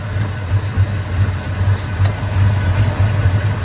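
A 1998 5.4 V8 engine idling while it is checked for a vacuum leak, a close, steady low rumble with a faintly pulsing rhythm and no speech.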